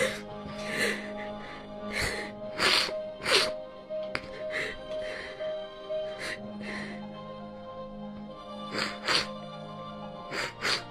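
Repeated wet nasal sniffles from someone crying quietly, recurring in irregular bursts close to the mic over a steady faint background hum, with soft breathy gasps between them.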